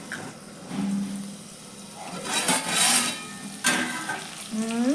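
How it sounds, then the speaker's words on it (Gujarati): Tomatoes sautéing in a pan for a spicy mung bean dish, heard as steady scraping and stirring over a soft sizzle, with a few louder scraping bursts near the middle. "આપણા ટામેટા સરસ સતળાઈ ગયા છે"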